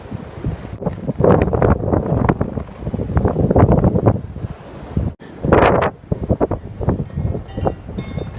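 Blizzard wind blasts snow outdoors, roaring and buffeting against the microphone in loud, uneven gusts that continue throughout, with no talk.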